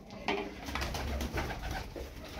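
Soft, low cooing from tumbler pigeons repeats in short bursts against a quiet outdoor background, with some light rustling.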